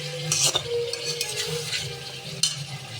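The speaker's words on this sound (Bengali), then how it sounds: "মুরগিটা একটু নেড়ে নিচ্ছি এখন" Chicken being stirred in a hot frying pan, with steady sizzling under scraping and clinking of a utensil against the pan, and a sharper scrape near the end.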